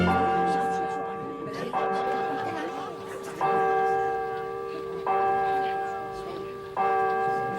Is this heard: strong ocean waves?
no